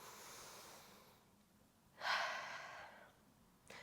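A person breathing during an energizing exercise routine, with a soft inhale that fades, then a sharp, loud breath through the nose and a brief snort-like puff at the end, close to the microphone.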